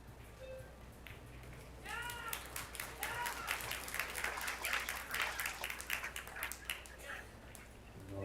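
A crowd at a tournament table in Las Vegas claps and cheers, producing bursts of scattered applause with a few yells over faint commentary voices.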